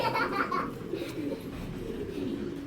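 Brief soft cooing from a large racing pigeon kept as a breeding bird, a low murmuring call close by amid light background noise.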